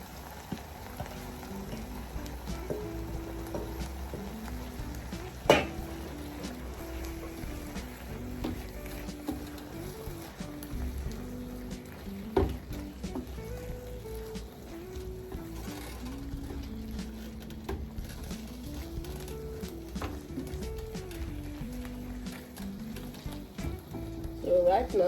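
Eggplant hits a hot pan with a steady, close sizzle and frying crackle that runs throughout, with a few sharp clatters from the pan and utensils.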